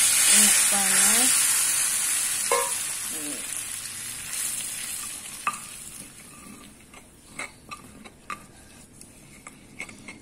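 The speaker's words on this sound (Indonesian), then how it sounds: "ini tuang pakai minyak panas" Hot oil poured onto a mashed tempeh and chili sambal gives a bright sizzle that starts loud and slowly fades. Short squeaks come near the start, followed by scattered clinks and scrapes of a utensil.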